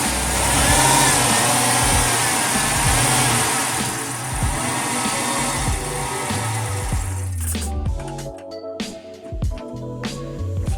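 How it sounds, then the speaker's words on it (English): Dodge Magnum engine running rough, a loud close idle with an uneven, stumbling low throb that grows choppier and more irregular toward the end. "this is the worst running CAN car I've ever seen"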